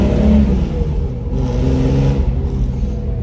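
An old, worn engine in a vintage Mercedes race car revs steadily and loudly up close, holding a rough, throbbing drone with slight swells throughout.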